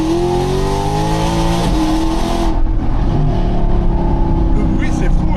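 Car engine revving hard during a ride, a loud, dense, rising roar that swells and then settles into a rough, rumbling drone, with no talk over it.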